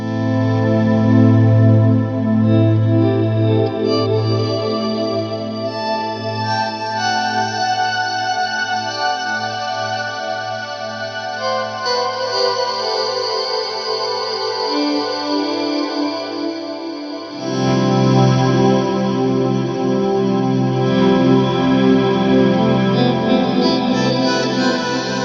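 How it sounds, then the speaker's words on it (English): A lush, sustained ambient guitar pad patch with a feedback-freeze effect, chorused and drenched in echo, swelling in layered held tones that shift to a deeper, fuller chord partway through; played alone without talk. "in a couple of minutes, you have this incredible ambient pad."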